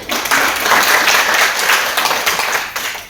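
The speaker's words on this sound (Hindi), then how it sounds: "तालियां करिए।" Indoor audience at a direct selling team meeting in Ballabgarh applauding loudly, a thick, continuous wash of clapping with slight surges, close and filling the room.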